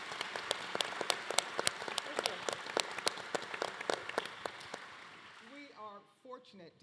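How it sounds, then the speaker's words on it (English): A round of applause at a county State of the County address, dense crowd clapping that fades out as a speaker's voice comes in at the end. "Can we give another round of applause for our Veteran Service officers and our veterans?"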